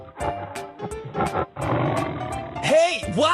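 In a cartoon animal transformation game, a tiger roars loudly in a few bursts, and a longer growl swells near the end amid excited voices and game effects.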